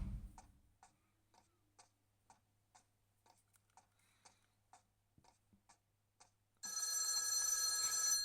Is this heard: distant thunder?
no